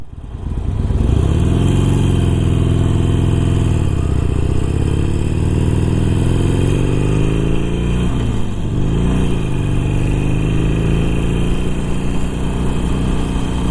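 A 2018 Harley-Davidson Iron 883 motorcycle pulls away and accelerates, its loud, close engine rumble rising in pitch through the gears with a brief dip mid-ride, steady and continuous throughout.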